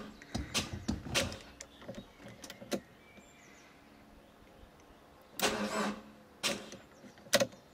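The starter motor of a Renault Master 2 van, just replaced and short of battery power, cranks in two bursts with a long pause between, followed by a brief final whir; close and fairly quiet, with no speech.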